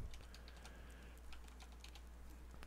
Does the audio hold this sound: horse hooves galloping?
no